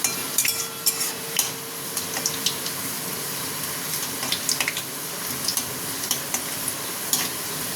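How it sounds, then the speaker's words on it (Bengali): Sliced onions fry lightly in oil, a soft steady sizzle broken by scraping stirs and clinks of a utensil against the pan, close up with no talk. "এইভাবে আমি লাল করে নেব, বেশি লাল করব না, শুধু হালকা হালকা ভেজে নেব পেঁয়াজটাকে।"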